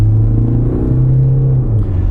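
A SsangYong Korando rolls along the road, its engine giving a loud, steady low drone and hum heard from inside the cabin.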